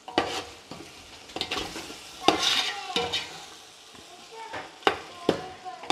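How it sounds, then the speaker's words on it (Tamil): A spoon scrapes and turns prawn biryani masala in a hot pan. The irregular strokes and clinks come close and distinct over a soft, continuous sizzle. "இது நல்லா மிக்ஸ் பண்ணிவிட்டு"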